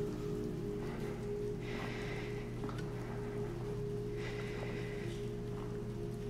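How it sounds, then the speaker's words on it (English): Rain falls in the video game Silent Hill 2, a faint, steady patter under a low constant hum, with a few soft swells and taps. "It's kinda raining on your bed there."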